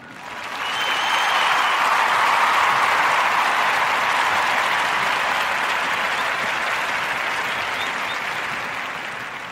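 Steady applause from a crowd, rising quickly, holding strong for several seconds and then slowly tapering off, with no voices over it.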